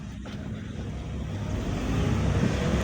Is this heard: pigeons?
no